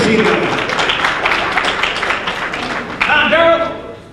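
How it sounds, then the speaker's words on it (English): An audience at the 2002 CAPO national powerlifting meet applauds a lifter's first bench press with a few seconds of scattered clapping, then an announcer's voice takes over. "let's give him a round of applause for his first bench press here today"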